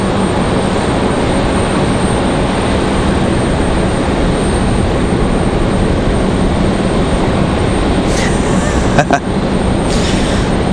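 A JetBlue airliner's jet engines roar steadily at an airport, a loud continuous broadband rumble throughout, with a few brief sharp clicks near the end.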